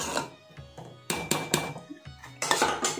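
A spoon stirs grated bottle gourd into kheer in a metal pot, giving repeated close clinks and scrapes against the pot in an irregular rhythm, with no talking.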